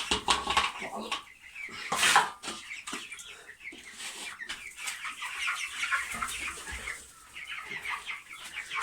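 Broiler chickens cluck and call in a farm coop while a person talks nearby. The clucking is close and irregular, mixed with some clattering.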